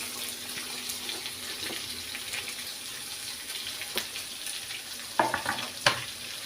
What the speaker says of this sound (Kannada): ಇದು ನೀರುಳ್ಳಿ ಹಾಕ್ಕೊಂಡು ಚೆನ್ನಾಗಿ ಕಂದು ಬಣ್ಣ ಬರೋಗೆ ಫ್ರೈ ಮಾಡ್ಕೊಳ್ಳುವ